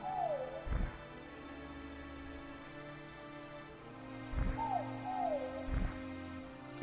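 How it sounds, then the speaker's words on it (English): Phoenixmon, a bird Digimon in the video game Digimon World, gives a few descending cooing calls, each paired with a low thump, over a steady droning game background. "Phoenixmon is doing their best to fill it with their cooing"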